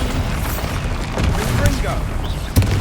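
A Bombarda explosion spell goes off in the video game Hogwarts Legacy, a burst of booming, crackling blasts over a rumbling background, with one sharp loud boom near the end.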